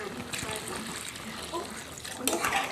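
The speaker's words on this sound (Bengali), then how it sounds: "ওই মাংসটা কষানো হয়ে গেছে, এবার দিয়ে দিচ্ছি জল।" Water pours into a pot of browned country chicken curry with a loud, close, gushing splash that lasts throughout and swells near the end, with a faint voice in the background.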